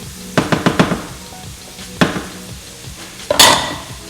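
Scallops for scampi cooking in a pan, with a few sharp metallic clinks of utensils against the pan and a brief burst of sizzle near the end.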